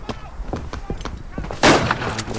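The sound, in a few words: grenade explosions in the video game Verdun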